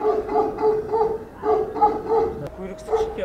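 A Tibetan Mastiff barks upstairs in a home, a series of repeated deep barks at moderate distance, with talking over them throughout.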